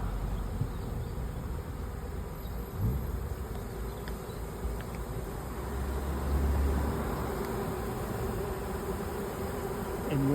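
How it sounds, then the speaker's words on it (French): A swarm of honeybees hangs along a chain, giving off a continuous, dense buzzing hum that stays steady and close for the whole stretch, with no voices. "Toutes les abeilles se posent sur la chaîne comme ça."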